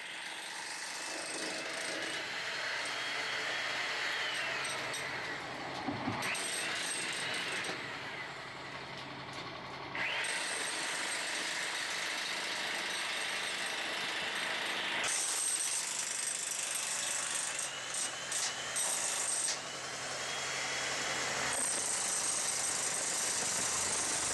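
A horizontal boring machine drills under a paved road for a sewer connection, giving a steady loud mechanical roar with grinding and ratcheting tones that shift in blocks over about twenty-four seconds, with no voices.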